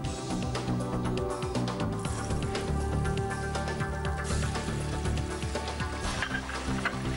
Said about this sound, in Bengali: আচ্ছা এবার ভাজো।